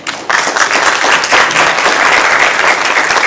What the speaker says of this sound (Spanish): Sí se vale aplaudir, está bien que sean concisas, pero sí se vale aplaudir.